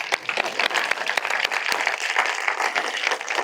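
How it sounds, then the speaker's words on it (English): An audience at a TEDx Salon event claps for itself in dense, steady applause that fills the whole stretch, loud and close with many overlapping hand strikes. "Give yourselves a clap."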